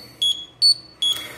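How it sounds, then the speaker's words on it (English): Three short, shrill electronic beeps at an even pace from an Industrial Scientific Ventis Pro5 gas detector alarm during a bump test, close and clear over a quiet background. "So you can hear the alarm going off"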